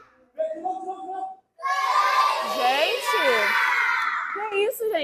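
A crowd of people at a samba circle during carnival shout and call out together, loud, overlapping voices rising after a short opening call and a brief pause, cheering and yelling close by.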